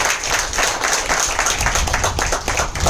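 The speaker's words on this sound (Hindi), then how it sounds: "तो बस जोरदार ताली हो जाए आप सभी लोगों के लिए।" Audience at a motivational training session gives a hearty round of applause, dense overlapping hand claps at close range forming a continuous rattling wash throughout.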